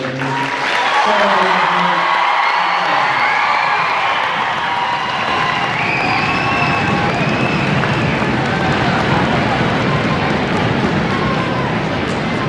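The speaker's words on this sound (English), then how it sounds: "And a round of applause for Dr. Kennedy." An audience at a swearing-in ceremony breaks into loud, sustained applause and cheering with whoops. It starts just after a voice at the front and keeps going as a dense, close roar of clapping.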